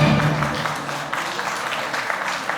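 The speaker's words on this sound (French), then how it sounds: "On peut applaudir." A French-speaking audience at an anniversary gathering applauds a newly named vice-president, giving a short, steady round of clapping.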